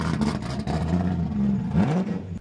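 A V8-swapped BMW E30 engine revs nearby, a low rumbling growl that rises in pitch near the end, with no talking.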